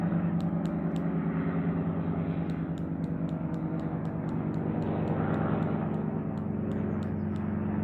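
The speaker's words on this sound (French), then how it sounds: "mais il y a plein d'avions garés ici." Continuous low droning engine roar of aircraft at an airfield with many parked planes, steady and moderately loud throughout, with faint bird chirps dotting the background.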